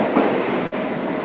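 A train passing close by with a steady loud rumble and rattle of rail cars, continuous throughout with a brief dip partway, no speech.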